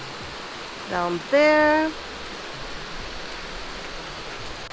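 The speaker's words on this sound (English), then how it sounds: "And then you have the river" A river rushes in the valley below a mountain hotel in Hakone, a steady broad wash of flowing water filling the background while someone speaks briefly over it.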